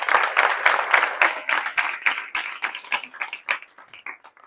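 A group of hostel girls clapping together for one girl, a lively burst of applause that thins out into scattered, fading claps.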